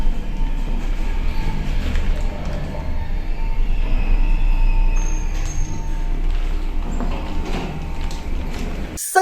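Rumbling train interior noise on a Luxembourg train, a steady low drone with faint squeals and rattles, continuous throughout.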